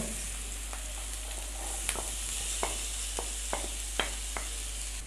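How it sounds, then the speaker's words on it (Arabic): Garlic hitting a very hot pan, a steady broadband sizzle of frying with a few sharp crackles and pops scattered through, close and alone with no talk. "بعد كده نروح مفضيين التومه، البتاع كانت سخنه قوي"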